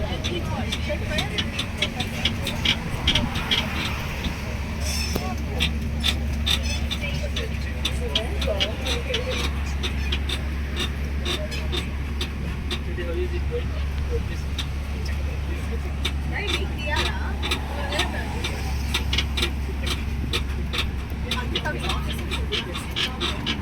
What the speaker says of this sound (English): It's a mobile vehicle taking the visitors